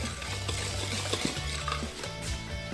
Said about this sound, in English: we're just gonna whisk that together and set it aside